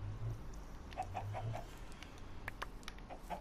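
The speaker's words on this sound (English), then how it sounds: "Let's breed these chickens." Minecraft chickens clucking in short bursts, a quick run of soft clucks repeated twice, then a few scattered clucks, close and fairly quiet over a steady game ambience.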